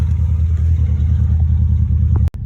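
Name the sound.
Mitsubishi Lancer Evolution IV car driving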